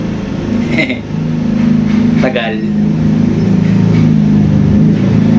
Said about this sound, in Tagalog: Padaanin muna natin yung tricycle. Sobrang ingay.